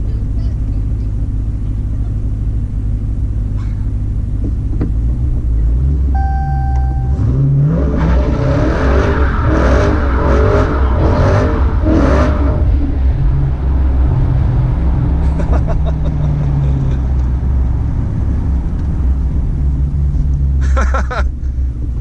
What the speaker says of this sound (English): Little burnout for some kidlets